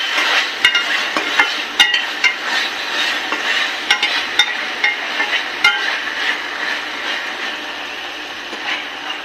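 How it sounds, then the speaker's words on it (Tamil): Chicken chukka sizzling in a pan while being stirred and turned, with a steady close frying hiss and repeated scraping, clattering stir strokes, with no talking. "திருப்பி இந்த மாதிரி நல்லா மிக்ஸ் பண்ணி விட்டு"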